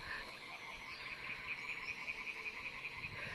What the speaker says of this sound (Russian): Еще и жабы